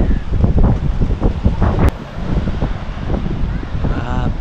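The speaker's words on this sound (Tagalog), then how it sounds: "Lakas ng hangin. Ito yung alon, no?" Strong wind buffets the microphone with a constant roar, waves rumbling underneath at Patungan Beach in Ternate, Cavite, while a person talks nearby.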